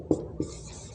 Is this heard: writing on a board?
yes